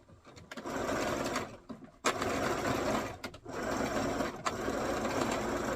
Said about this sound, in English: I just take my chances on the sewing machine and securing it down.